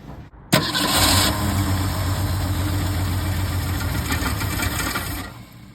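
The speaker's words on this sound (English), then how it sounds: "Starting to fire like it's getting fuel" An old Ford Falcon engine, left sitting for 46 years, cranks and catches, firing into a steady rough run that holds loud and close for several seconds before cutting off.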